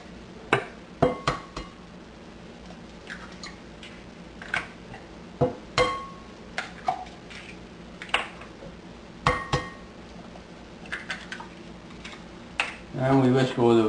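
Eggs, milk and flour for Yorkshire pudding batter are whisked in a bowl, with irregular sharp clinks and taps of the whisk against the bowl, close and fairly loud, ending in a brief burst of rapid beating.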